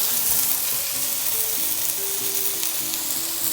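Garlic and tomatoes sizzle in a pan for spaghetti sauce, a constant bright hiss held at an even level with no talk.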